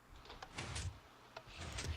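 A sticky piston door in Minecraft operates with a few quick mechanical shunting clacks and sliding sounds, faint and separated by short pauses, with no voice present.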